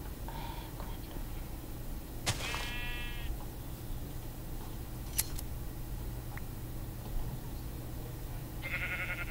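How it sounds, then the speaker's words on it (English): Video game sheep bleating in a flock area: a loud, clear bleat near the start, then another toward the end, over a steady low ambient hum. "Oh, there's tons of sheep over here."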